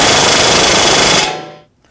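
Loud air impact wrench working a nut with a 16mm socket on the front upper control arm of a 2006-2009 Audi S4, a sustained rattling hammer for about 1.2 seconds, then cutting out and spinning down to silence.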